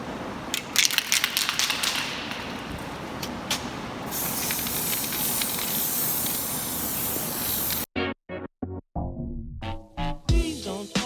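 Spray paint hisses steadily onto a van in long, near bursts of rushing spray with some crackly texture, then stops abruptly as music with singing takes over.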